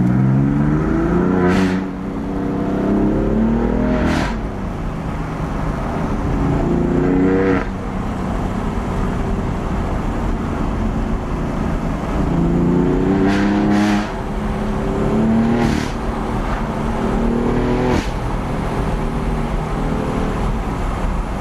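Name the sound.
BMW M4 engine revving with sport exhaust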